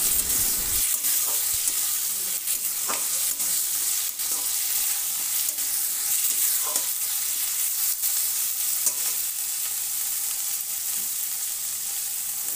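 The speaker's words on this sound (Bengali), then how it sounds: "এবার লবণ হলুদ মাখানো চিংড়ি মাছগুলো দিয়ে দিলাম, দিয়ে নেড়ে চেড়ে নিলাম" Salt- and turmeric-coated shrimp frying with onion and garlic, a loud, steady hiss of sizzling oil up close, with occasional soft clinks and scrapes from stirring.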